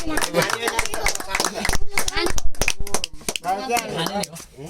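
Hands clap in quick bursts at a child's fourth birthday celebration at home. The claps are mixed under lively, overlapping talk from adults and children.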